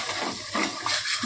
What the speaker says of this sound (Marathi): पाणी भरपूर टाकायचं.